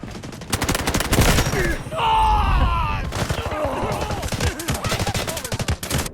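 Gunfire in the mobile shooter Delta Force Mobile: rapid automatic bursts crackle loudly in quick rhythmic strings, broken by a brief pause with a voice, then resuming in sharp repeated volleys.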